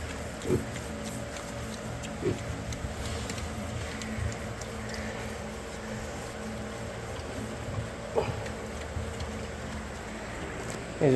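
Pigs grunt and snort intermittently over a steady low background hum, with a few short sharp sounds scattered through.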